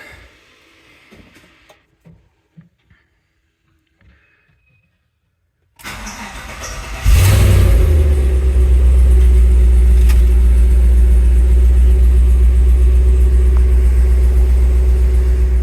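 After near silence with a few faint clicks, a starter cranks briefly, then a stock Gen V engine in a Chevrolet C10 truck fires up from cold and settles into a loud, deep, steady idle.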